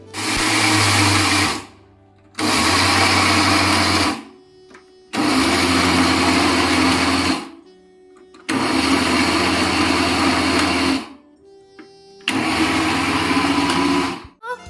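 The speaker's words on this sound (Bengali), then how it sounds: "এখন এটাকে তো পিষে নিতে হবে" Boiled chana dal (split chickpeas) is ground to a paste in an electric grinder. The loud motor whirs in five bursts of about two seconds each, with short pauses between them.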